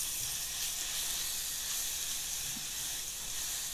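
Two small tomatoes drop into two spoons of hot oil on a stove and fry with a soft, even hiss that holds steady for a few seconds, fairly quiet and close.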